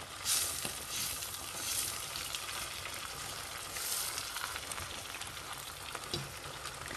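Pieces of meat browning in a pot give off a steady, close sizzle of frying in fat, with a few louder spits and pops along the way and no voices.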